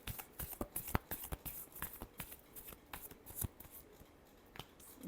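A deck of cards shuffled by hand during a Virgo weekly horoscope card reading: a close, quick run of crisp riffling clicks and flicks in uneven bursts, with no voices.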